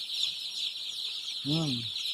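Newly arrived brown cock chicks crowded together under a steady high chorus of peeping, with one louder, lower cluck-like call rising near the end, close by.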